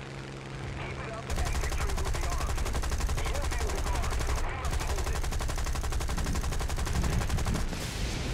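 Sustained rapid machine gun fire in the War Thunder video game, island battle with boats nearby, loud and continuous for most of the stretch after a quieter start, with talk mixed in.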